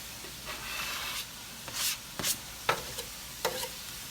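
Minced garlic cooking into a picadillo pan, a quiet steady sizzle broken by several scraping strokes of a spoon stirring, close and without talk.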